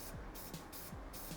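Lubricant spray is applied to the shock bolt of a BMW S1000RR during an Ohlins TTX shock installation, heard as a quiet, close hiss in several short, evenly spaced bursts.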